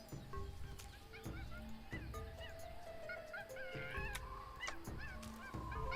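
Bird calling in the jungle of the Tales of Monkey Island video game, a series of honking, goose-like calls repeating in short bursts over steady jungle ambience, moderately faint.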